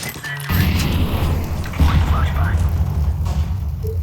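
An incendiary grenade is thrown in a multiplayer shooter video game, with a sudden burst of loud roaring crackle that carries on steadily behind a dull thump midway.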